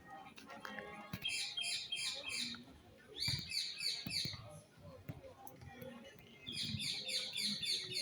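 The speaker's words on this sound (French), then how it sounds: "le petit oiseau, un perruche qui est passé par là" A parakeet chirps in bursts of quick, bright repeated calls in the Jardins du Peyrou park in Montpellier, with a pause mid-way, over faint outdoor background noise.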